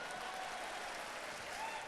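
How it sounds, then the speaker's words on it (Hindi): A steady wash of crowd applause at an anniversary event, even and continuous for the whole stretch, moderately distant, with no voices over it. "इसके लिए भी ताली वाली हो जाओ यार प्लीज।"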